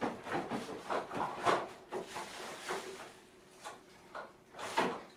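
A kitchen drawer is pulled open and rummaged through for candles, with a series of short wooden sliding and rattling bursts, some louder than others, spaced irregularly with quieter gaps between them.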